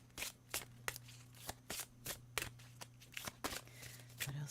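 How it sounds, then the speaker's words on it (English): Tarot cards being shuffled by hand in repeated quick riffling bursts, soft and close, with a low steady hum beneath and no talking. "I won't look as I'm shuffling."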